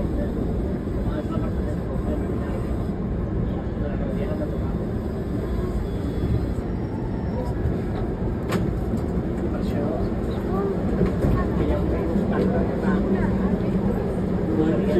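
An MBTA Red Line subway train running underground in Boston, a steady loud rumble and rattle of the car in motion, with a recorded announcement voice heard over the noise.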